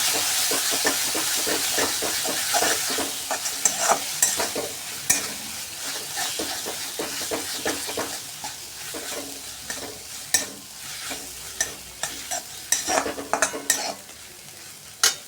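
Tomatoes, ketchup and turmeric fry in oil while a spoon stirs and scrapes the pan, quick strokes over a hissing sizzle that thin into sparser, sharper scrapes near the end.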